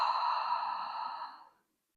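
A single Ujjayi breath drawn through a constricted throat gives a soft, steady, hissing rush that fades out after about a second and a half, close and alone with no talking.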